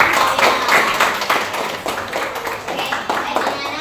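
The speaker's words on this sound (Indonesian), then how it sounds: "Oke, kasih tepuk tangan buat Nabila." A classroom group claps for a student, a brisk patter of hands lasting a few seconds with speech mixed in.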